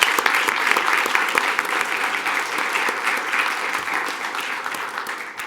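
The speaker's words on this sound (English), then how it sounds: "Let's give them a round of applause." A school board meeting audience applauds students, dense continuous clapping from a roomful of people holding steady throughout and tapering slightly at the close.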